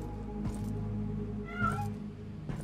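A cat meows in the horror video game Sinking, a short, clear mew rising and falling over a low steady hum of game ambience, with faint clicks around it.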